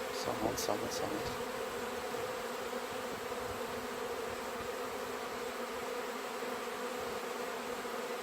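Bees drone in a dense, steady buzz that holds throughout, fairly close and unbroken.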